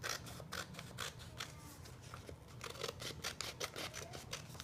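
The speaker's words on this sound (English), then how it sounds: "And then you're going to cut off the edge." Scissors snip the edge off a sheet of paper, a quick series of faint, crisp cuts in a steady rhythm, close but quiet.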